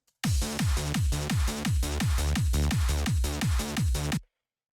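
A UK hardcore style synth bass built from three detuned saw oscillators pounds out a fast run of about fourteen even, punchy notes, each with a downward-sweeping attack, loud and dense for four seconds before cutting off.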